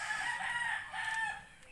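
A rooster crows among a group of pet birds, a single long, loud crow held for about a second and a half and then trailing off, with no talking over it.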